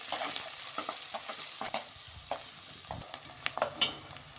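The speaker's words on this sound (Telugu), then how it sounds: "ఒక కప్పు ఉల్లిపాయలు చిన్న ముక్కలుగా అలా కోసుకుని వేసుకొని సరిపోతుంది." Chopped onions frying in oil in a pan, a quiet steady sizzle broken by intermittent scraping stirs and light clinks of the spatula, close and soft, with no one talking.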